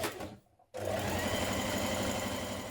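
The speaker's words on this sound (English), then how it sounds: "we're going to stay stitch around the neck edge" A sewing machine stay-stitches around the neck edge of a spring top: a brief pause, then a steady, even stitching whir running continuously and close.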